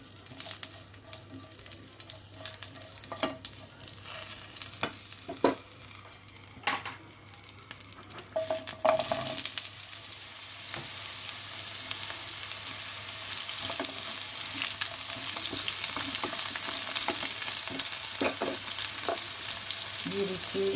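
Ridge gourd hitting hot oil with a panch phoron tempering for a vegetarian jhinge bori dish: a steady, loud sizzle that builds and holds, with occasional stirring scrapes and clinks of the pan.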